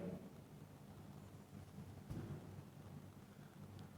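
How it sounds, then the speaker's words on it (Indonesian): Steady rain falls with a dense, even hiss, and a dull rumble of thunder swells briefly midway. No one speaks. "Hujan turun, Pak, cuman begini, Pak."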